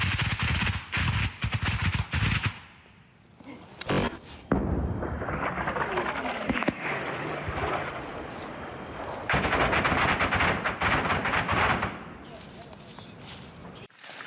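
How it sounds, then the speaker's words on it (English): Artillery and gunfire on the Ukrainian front line, including a 155 mm cluster shell detonating, sound as repeated loud bursts and rumbling blasts, with rapid crackling volleys and someone talking in between. "Russian artillery reaps its deadly toll, Ukraine's guns target the defenders"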